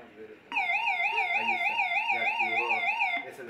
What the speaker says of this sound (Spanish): Nosotros tenemos una alarma que se activa cuando este sensor registra una señal que rebasa cierta amplitud en el papel.